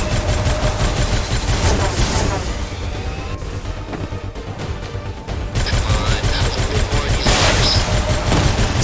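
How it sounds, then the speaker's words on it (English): Rapid volleys of rocket fire in a space shooter game, loud dense bursts of launches and impacts with a brief lull midway before the barrage resumes. "Just gonna shoot rockets at it"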